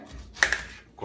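A knife slices the ends off a ripe pineapple, giving two quick, close, crisp cuts in a row, with a faint background clatter.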